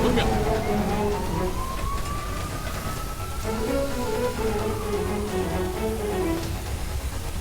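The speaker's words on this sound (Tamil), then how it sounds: "ஆம்புலன்ஸ் வந்துச்சுப்பா." An ambulance siren wails in a steady rising and falling tone, loud and continuous over dense traffic and street noise, with faint voices underneath.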